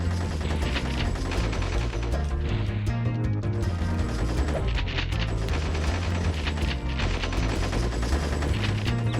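Rapid, continuous gunfire crackles through a dense wall of game audio in a Spyro the Dragon speedrun, bullets firing nonstop at steady loudness for the whole stretch, with no voices.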